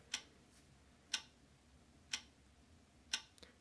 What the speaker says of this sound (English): a ticking clock